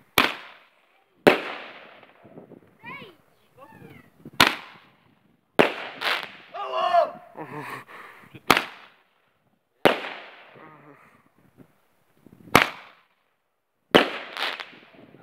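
Fireworks and firecrackers see out the year 2018 with about ten sharp, loud bangs spaced a second or two apart, each trailing into crackle and echo, with brief voices in the gaps.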